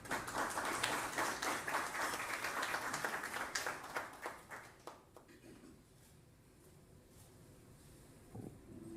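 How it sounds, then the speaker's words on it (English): Applause from an audience at a corporate financial results briefing rings out loudly for a few seconds, then fades away into quiet room tone. "Surely those numbers deserve a better round of applause."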